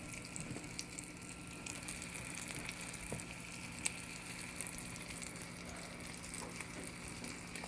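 Millet cake patties fry in a pan with a soft, steady sizzle and hiss, quiet and continuous with no voices.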